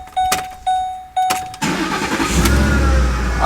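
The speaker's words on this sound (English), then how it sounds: "when I turn the truck on" A truck's starter cranks in three short, whirring bursts before the engine catches and settles into a steady, close idle.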